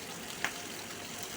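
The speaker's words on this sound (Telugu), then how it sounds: "ఎండుమిర్చి వేసి ఈ పోపు అంతా వేసి బాగా వేగనివ్వాలండి" A steady, soft sizzle of urad dal, garlic, green chillies, cumin, mustard seeds, curry leaves and dried red chillies tempering in hot oil for a hotel-style mango dal, with a couple of sharp pops and no voices.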